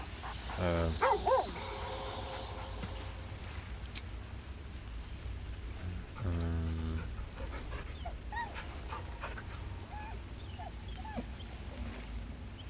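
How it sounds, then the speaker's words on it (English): A dog in the video game Baldur's Gate 3 gives a couple of short yelps and whimpers over a low game ambience, with soft game sounds scattered in between. "Options for pet the doggy."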